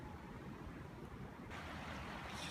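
Fast-moving brown floodwater after Storm Desmond rushes past in a steady, broad roar, with a wind-like hiss rising toward the end and no voices.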